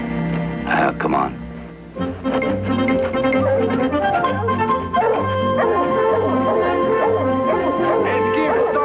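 A hound's barks and yips ring out amid a dramatic orchestral score in a rural family drama, the dog sounds short and scattered while the music plays throughout.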